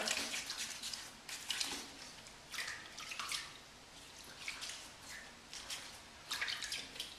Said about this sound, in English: I'll perform a slight rinse again.